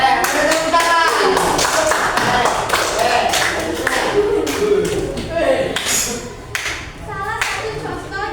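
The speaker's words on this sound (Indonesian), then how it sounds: "Tepuk tangan" Classroom applause from pupils in a social studies lesson, a dense patter of hand claps running steadily throughout, close and fairly loud, with chatter mixed in among the clapping.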